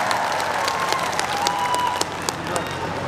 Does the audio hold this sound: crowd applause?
yes